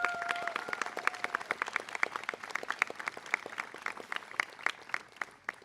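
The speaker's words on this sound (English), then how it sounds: "Let's give all of our student speakers another round of applause." An audience at an upper school graduation gives a round of applause, dense, crisp clapping from many hands that holds steady throughout.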